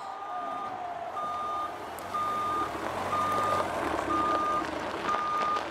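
A big green dump truck backs up, its reversing alarm sounding a steady series of evenly spaced beeps over a low engine rumble, fairly close, with no talking.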